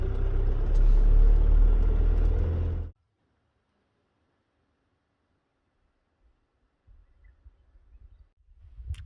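A car engine runs loudly up close for about three seconds, then cuts off abruptly, leaving near silence before faint low rumbling returns.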